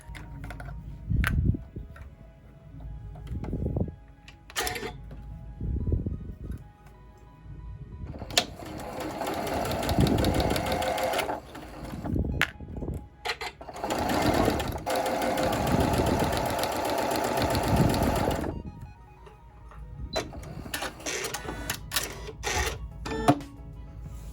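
A sewing machine runs in bursts of rapid mechanical stitching while finishing seams, with longer steady runs in the middle and short clicks and pauses between.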